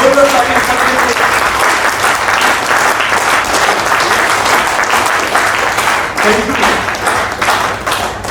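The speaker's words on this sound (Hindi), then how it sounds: "हमारे डायरेक्टर साहब कंटिन्यू हमारे साथ में एक बार जोरदार तालियां करते हैं।" Loud, sustained applause from a crowd at a company get-together, dense clapping filling the whole stretch, with a few voices faintly audible beneath it.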